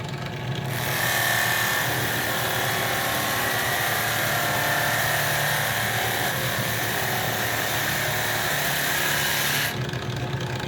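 A sanding mop contour sander spinning on a drill press works along a CNC carved groove, a loud steady whirring drone with abrasive rasp that starts and stops cleanly.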